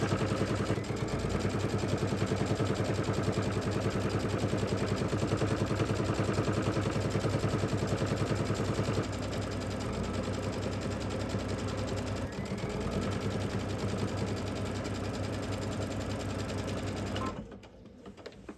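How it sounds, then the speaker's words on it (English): An embroidery sewing machine stitches a border in light blue thread, a loud, fast, steady mechanical clatter that runs continuously, slows slightly partway through, then stops near the end. "I'm just going to go ahead and sew all the way around just to leave a little nice border"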